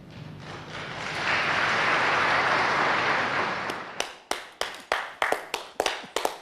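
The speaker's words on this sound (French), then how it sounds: "Oui, applaudis bien" Hands clapping: a swelling burst of studio applause fades, then several sharp, separate claps ring out one after another with short decays, close and fairly loud.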